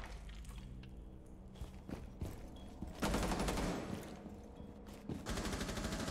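Gunshots in a competitive PC multiplayer shooter, with a loud burst of rapid fire in the middle and more shots near the end over steady game ambience.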